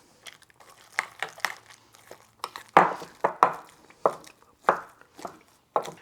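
Mashed potatoes being stirred and mixed with spices for a potato chop (kookoo sibzamini), giving close, irregular squishy and crunchy strokes with brief pauses between them and no talking.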